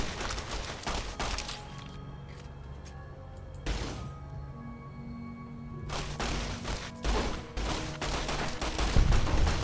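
Rapid bursts of video game gunfire crackle through a busy stretch of play, with dense volleys at the start, a sharp crash near the middle and more repeated shots building loudly toward the end.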